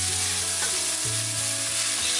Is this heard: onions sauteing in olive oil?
yes